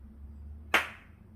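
One sharp hand clap, used to mark a quarter-note beat in a violin rhythm exercise, rings out close and alone over faint low hum, then decays quickly.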